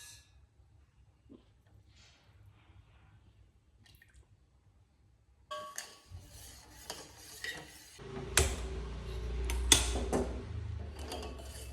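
Ghee being mixed with crushed cardamom and other sweet ingredients in a bowl while making shakarpara, quiet scraping and squishing strokes that grow into louder clattering rubs of spoon against the bowl, no talk.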